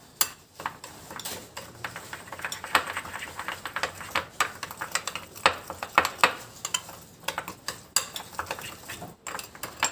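A spoon clinks and scrapes repeatedly in a bowl while a spicy harissa chili-paste mixture is stirred for a fish marinade, giving close, irregular metallic taps throughout with no talking.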